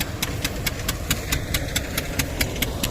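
A tractor engine idles in a village field with an even, close mechanical rumble. Sharp regular ticks and rattles pulse through it at a steady beat.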